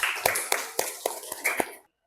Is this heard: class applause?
yes